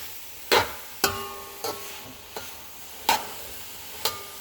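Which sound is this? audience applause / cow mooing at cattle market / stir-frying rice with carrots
stir-frying rice with carrots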